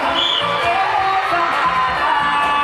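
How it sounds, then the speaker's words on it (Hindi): Students of Green House at a school annual function clap and cheer as a steady, dense crowd roar that fills the whole moment, with a faint musical tone running underneath. "ग्रीन हाउस जरा तालियों की आवाज मुझ तक पहुंचनी चाहिए"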